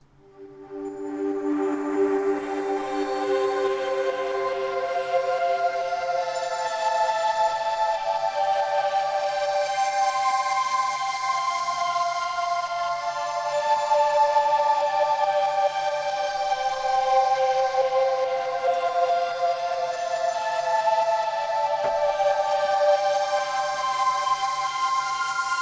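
A sustained ambient atmospheric matrix pad from the Xfer Serum synthesizer swells in and holds steady, layered harmonic tones slowly shifting with filter and LFO modulation, continuous and alone for the whole stretch.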